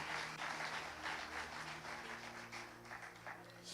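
A church congregation applauds the Lord, a steady wash of many hands clapping at moderate distance over a low hum, with no talking.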